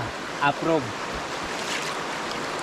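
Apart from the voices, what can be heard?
stream water flowing near waterfall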